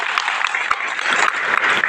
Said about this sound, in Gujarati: નવઘણભાઈને પહેલાં તો તાળીઓથી વધાવતો હતા